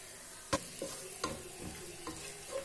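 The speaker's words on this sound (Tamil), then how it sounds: "மிளகாய் பொடியை நல்லா எண்ணெயிலே வதக்கிடுங்க." Chili powder is sautéed in oil with ginger garlic paste for prawn biryani; a quiet, steady sizzle is broken by a handful of crisp stirring taps, near and fairly faint.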